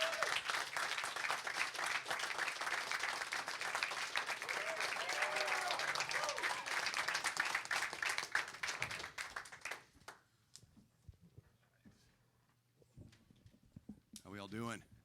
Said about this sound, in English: Make some noise for the Offspring.